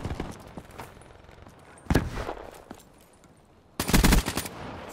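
Bursts of video game gunfire ring out during a shootout. A short volley comes near two seconds and a louder rapid burst near four seconds, with quiet game ambience in between.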